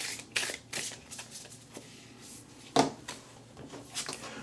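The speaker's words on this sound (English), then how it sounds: "So this is the pocket edition. So let's go ahead and shuffle." Oracle cards from the pocket edition of the Beyond Lemuria deck being shuffled by hand, a run of soft papery riffles and slaps with one sharper snap near the middle, close and fairly quiet with no talking.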